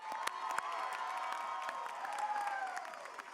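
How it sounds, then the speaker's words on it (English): An audience applauds at a university spring commencement ceremony, steady clapping heard from a distance in a large hall with a faint crowd murmur and a sustained musical tone running beneath. "please give her a round of applause again"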